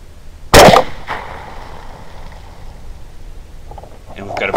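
A single sharp rifle shot rings out at an evening beaver hunt near water, loud and close, then fades into quiet outdoor ambience with faint rustling toward the end.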